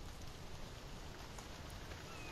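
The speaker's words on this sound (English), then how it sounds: "We're having our raining season now as well. Quite a bit of rain." Steady rain falls during the rainy season as a soft, even hiss of drops, faint and continuous throughout with no voices.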